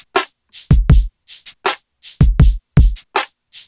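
A snare drum sent through a fully wet delay with the low end filtered out, sounding as thin, bright cracks and softer echo repeats in a quick, uneven pattern, close and alone.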